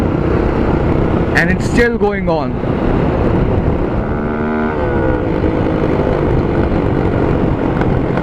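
A Honda 164.4cc motorcycle fitted with a Yoshimura USA slip-on exhaust runs with a loud, steady engine drone, rising and falling as revs change, while someone talks over it.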